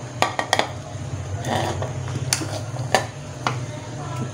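A metal spoon scrapes and clinks against a pot while gobhi gosht, a cauliflower and meat curry, is served out, in several sharp taps and scrapes close by over a low background hum.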